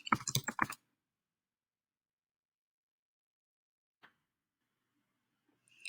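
Quick burst of typing on a computer keyboard, a cluster of close key clicks at the start, then near silence with a lone click and a few faint keystrokes at the end.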